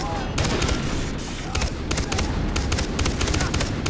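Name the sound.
gunfire in the video game Far Cry 3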